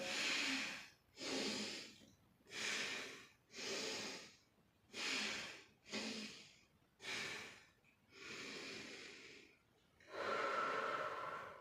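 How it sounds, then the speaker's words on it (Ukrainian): Alternate nostril breathing during a children's physical-education exercise: nine slow, even nasal breaths, each a loud, airy rush of about a second with short pauses between, close to the listener. "Однією ноздрією вдихаємо, іншою видихаємо."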